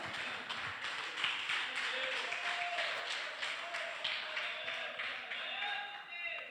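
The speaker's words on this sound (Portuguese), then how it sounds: "Vamos aplaudir mais uma vez ao Senhor?" An evangelical church congregation claps in praise during a service, a steady crackle of many hands with faint voices rising over it throughout.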